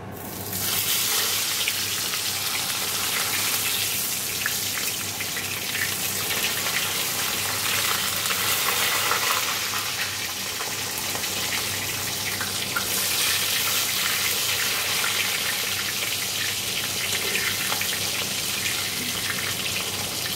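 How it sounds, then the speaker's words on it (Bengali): Fish fries in hot oil in a home kitchen, giving off a steady, dense sizzle that stays loud and even throughout, with no voices. "দেখো মাছগুলো যে ভাজা হয়ে গেছে"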